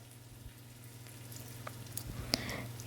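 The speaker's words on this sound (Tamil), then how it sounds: "ஹீட் ஆன பிறகு எறா எல்லாத்தையும் வந்து நம்ம ஃப்ரை பண்ணிக்கலாம்" Prawns frying in hot oil in a pan for prawn biryani, giving a faint, steady sizzle with a few small pops and crackles near the end.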